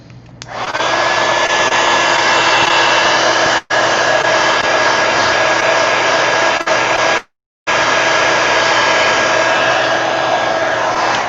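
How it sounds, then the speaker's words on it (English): A heat gun runs almost continuously while drying a craft project, giving a loud, steady airy roar. It cuts out briefly twice, with no talk over it. "I'm going to heat gun this"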